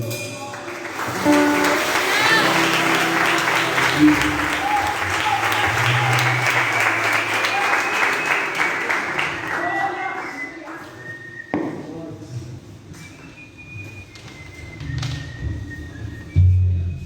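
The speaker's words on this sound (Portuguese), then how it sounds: "Aplauda o Senhor." A church congregation applauds loudly and steadily for about ten seconds, then the clapping thins into scattered claps, shuffling and thumps as the room settles.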